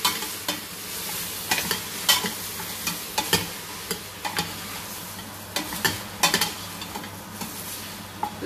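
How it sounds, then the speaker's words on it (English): Mutton trotters sauteing with softened onions in a pot, a steady low sizzle broken by repeated scraping stirs of a utensil against the pan at an irregular rhythm, close and fairly quiet with no talking. "We'll saute it for 1 minute."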